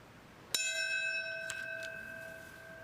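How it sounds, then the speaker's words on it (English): A single bell of remembrance struck at a September 11 memorial ceremony at Shanksville, one clear strike followed by a long ringing, slowly fading tone, with a fainter second strike partway through, distant and alone. "Bells of remembrance at Shanksville"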